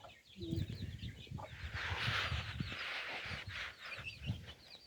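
Chickens cluck and call close by in a rural yard, a busy, scattered run of short clucks over soft outdoor background noise.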